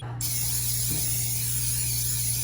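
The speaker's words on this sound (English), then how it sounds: "I'm gonna go ahead and spray down the pan to make sure nothing sticks." A steady aerosol hiss of cooking spray sprayed onto a pan runs continuously for a couple of seconds, close and fairly loud.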